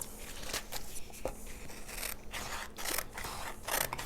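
Scissors snip through paper in a series of short, crisp cuts, close and fairly quiet, with small rustles between them.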